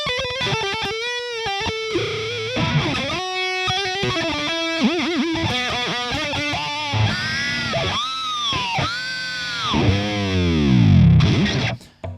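A 1994 Made-in-Japan Jackson Stealth EX metal guitar plays fast distorted lead lines, with bends, squealing high notes and sustained vibrato phrases that swell louder toward the end, heard alone without talk.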